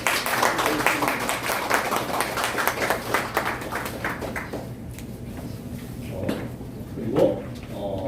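Applause greets an honorary adviser being introduced at a civic association's annual lecture, a dense patter of clapping for about five seconds that fades to a quiet room with scattered small taps.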